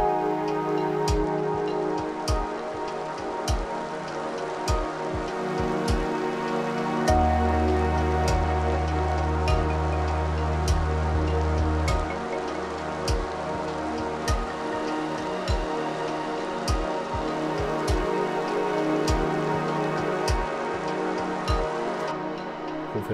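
An ambient music track plays steadily throughout, a dense, rain-like wash of crackling texture over a sustained low drone, with a deeper bass tone swelling in partway through and no voices.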